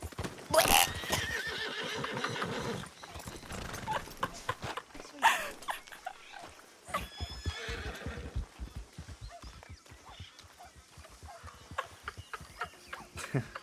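A horse in a video game whinnies loudly at the start, followed by soft hoof clip-clops and scattered thuds, with occasional faint animal sounds in the background.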